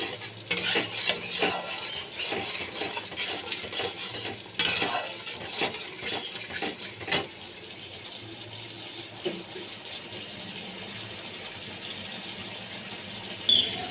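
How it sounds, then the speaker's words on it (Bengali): A spoon scrapes and clatters in a pan as spices are stirred and sautéed for a bhola fish curry with mustard paste and coriander, with busy close stirring that eases into a softer, quieter sizzle. "ভালো করে আমি মশলাগুলোকে কষিয়ে নিচ্ছি"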